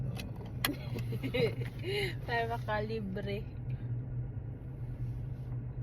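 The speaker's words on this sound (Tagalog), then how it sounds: "Painit muna ng sasakyan para mamaya painit muna kami saglit." A car engine warming up idles with a low, steady hum and rumble, heard beneath someone talking in Filipino nearby.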